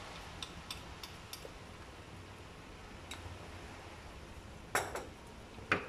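Soft scraping and occasional light clinks of a spoon stirring homemade apple pie filling thickened with cornstarch in a pot, with two sharper knocks near the end, in a quiet room.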